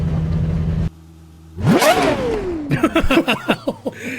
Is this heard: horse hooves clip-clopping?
no